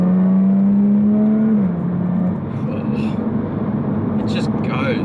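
A Jaguar F-Type S Coupe in dynamic race mode accelerating hard, its supercharged engine note holding a steady drone before dropping and roughening into a broad roar, with someone talking over it.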